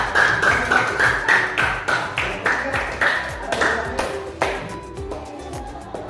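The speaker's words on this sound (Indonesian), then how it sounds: "Tepuk tangan dulu untuk Hera" A school audience at a student project session claps for a presenter in a steady, evenly spaced rhythm of sharp, close claps that fade slightly toward the end.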